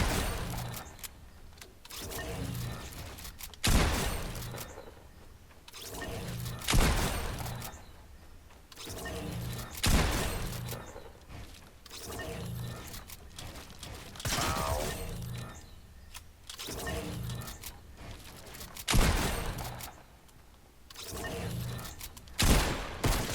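Fortnite gameplay on a console controller: rapid building edits and gunfire come as repeated sharp bursts, mixed with clicky mechanical clatter, at a steady, busy pace with no voices.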